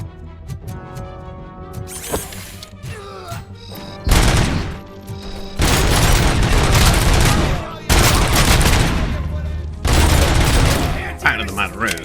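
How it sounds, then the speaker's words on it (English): Repeated loud gunfire bursts as RoboCop shoots enemies in the RoboCop video game, starting with scattered clicks and shots and then breaking into three long rattling volleys with brief pauses, with no voices over it. "Shoot them in the head like 900 times."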